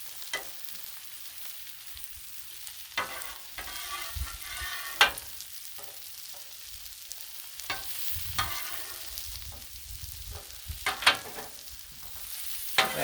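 Vegetables sizzling on a Blackstone griddle, a soft continuous hiss with scattered crackles and a few sharp scrapes or clicks as pieces are turned, no voices.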